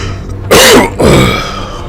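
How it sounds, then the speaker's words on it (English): A person coughs and clears their throat in two loud, harsh bursts close to the mic, with quiet room tone between them. "I think the coughing helps actually."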